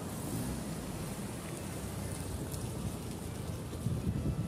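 Light rain falls steadily as a soft, even hiss close by, with a few faint heavier patters and no voices.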